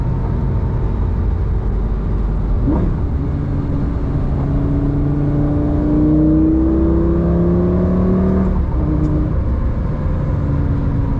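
A Lamborghini Gallardo drives through curves, its engine droning steadily from inside the cabin with rising and falling revs as it accelerates, and a swell of louder engine note midway, with no talk over it.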